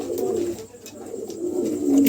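A pair of pigeons coo softly and repeatedly at close range, low throaty calls rising and falling over a faint background.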